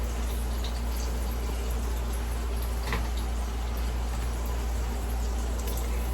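Steak sizzling in a hot pan gives a steady, continuous hiss and crackle at moderate level, with no talking over it.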